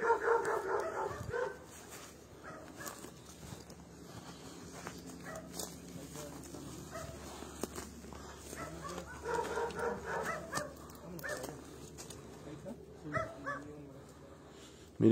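A dog whimpers and yips near an outdoor live stream, with faint barks mixed among people talking in the background.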